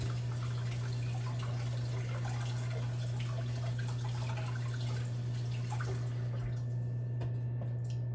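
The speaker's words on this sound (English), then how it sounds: "I'm going to rinse my hands off." Tap water running steadily in a kitchen sink as hands are rinsed, a soft continuous splash over a constant low hum, heard alone.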